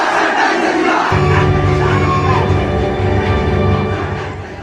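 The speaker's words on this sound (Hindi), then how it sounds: "जैसे जैसे ये नारा लग रहा था भीड़ का उन्माद भी बढ़ता जा रहा था।" Crowd in a procession chanting slogans: loud massed voices shouting in unison, a dense continuous roar of many people.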